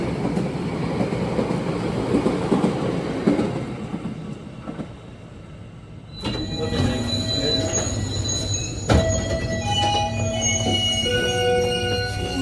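KA Lodaya Tambahan new generation economy train from Solo to Bandung, heard from inside as steady rail rumble and running noise, joined midway by loud sustained wheel squeal with shrill metallic tones and a sharp clank, no talk.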